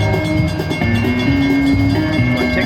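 A steady train whistle tone from a video game sounds over continuous rumbling and clattering game audio, loud and sustained throughout.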